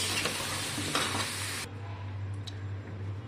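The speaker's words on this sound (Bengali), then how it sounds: "এখন আলু ভাজা হচ্ছে," Potatoes frying in hot oil with a steady broadband sizzle, stirred and lifted with a utensil at intervals; the sizzle is loud at first, then drops to a quieter hiss with a low hum underneath.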